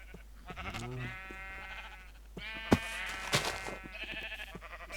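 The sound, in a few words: sheep eating grass in Minecraft Feed The Beast video game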